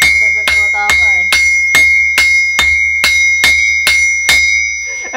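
A hammer strikes metal about a dozen times in a steady, even rhythm, each blow loud and close with a bright ringing tone that hangs briefly between hits.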